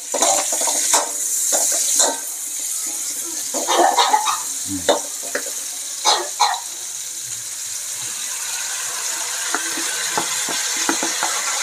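Chayote shoots being sautéed with fish bagoong in a pan, with scattered stirring scrapes and soft sizzling bursts over a steady background hiss, close and moderately loud.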